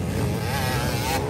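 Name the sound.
enduro racing motorcycle engine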